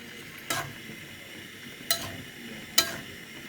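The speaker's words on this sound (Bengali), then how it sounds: "মাংস কষানো হচ্ছে।" Beef and liver stir-fry with garam masala in a pot: three distinct scraping strokes of a spoon ring out over a faint background sizzle.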